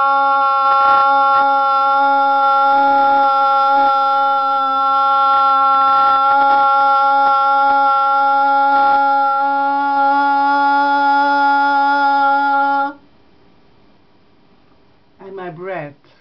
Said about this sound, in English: The longest note I can sing.